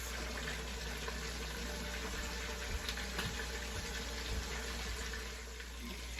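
Boneless chuck roast searing in a pressure cooker, a faint continuous sizzle with a low steady hum beneath it and no talking.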